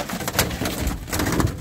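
Racing pigeon cooing close by in a loft, soft repeated coos running through the whole clip with scattered bursts of fluttering and shuffling, no talk.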